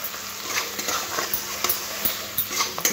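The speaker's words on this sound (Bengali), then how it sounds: "খুব ভালো করে মিশিয়ে নেব" Sim beans being stirred and mixed in a pan of poppy-mustard curry, a series of close scraping and clacking strokes over a soft frying sizzle, irregular and fairly loud, no voices.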